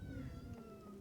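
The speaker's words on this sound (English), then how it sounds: "my cat is meowing" A quiet, drawn-out cat meow with a low hum beneath it, brief and faint.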